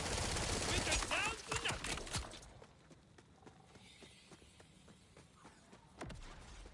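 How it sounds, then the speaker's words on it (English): Bursts of gunfire in Borderlands 4, a dense loud volley at the start trailing into scattered single shots and a late sharp report, with faint game ambience between. "Oh, it's the shooting."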